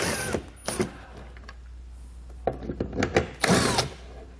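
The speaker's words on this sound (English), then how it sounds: "You want to grab a 10mm socket and pull each one of those out." A 10 mm socket wrench works the taillight bolts out of a 2017 Toyota. It makes close, short bursts of metallic clicking and grinding, a couple early and a quick cluster near the end, with no talk.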